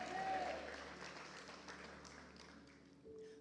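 Church congregation applauding together during a worship service, a steady wash of clapping that swells loudest at the start, then thins and fades over about three seconds.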